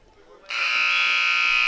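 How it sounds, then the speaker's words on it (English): A loud, sustained electronic buzzer ends a period in a high school wrestling match, starting abruptly after a quiet moment and holding a steady harsh tone. "There is the buzzer for the end of period 2"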